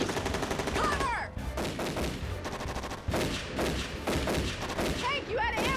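Rapid bursts of gunfire from the video game Jurassic Attack rattle on continuously, loud and dense, with shots overlapping and whining effects layered in.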